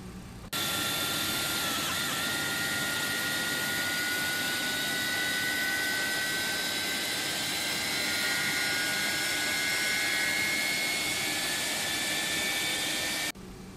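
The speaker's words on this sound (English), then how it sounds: "Okay, good start on the middle engine. The middle engine's starting to settle down." MD-11 middle jet engine spooling up in the X-Plane 12 flight simulator, a steady turbine roar with rising whining tones that climb gradually over several seconds, continuous and alone before cutting off abruptly.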